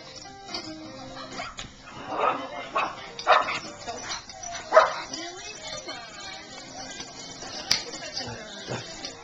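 Pugs barking and yipping at animals on a television indoors, several sharp bursts spread across the clip with whimpers between, moderately close, with a person talking intermittently in the background.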